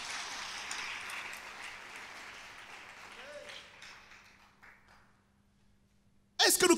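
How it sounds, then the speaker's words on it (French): A church congregation claps and cheers loudly during a special combined Sunday service, the dense applause gradually thinning and fading out, followed by a sudden loud burst at the very end. "On l'acclame puissamment ce matin."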